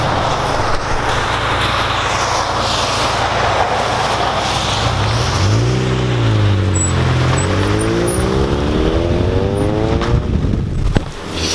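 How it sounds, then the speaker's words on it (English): A Honda Integra with a manual 5-speed drives past, its exhaust building from a steady drone into a rising, sweeping engine note as it passes close by, loud and alone without talk. "Mean Integra, dude. Let's hear this exhaust."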